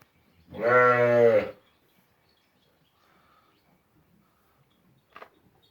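A merino ram in a pen gives one loud, close, drawn-out bleat lasting about a second. Near silence follows, broken by a faint shuffle and a short knock.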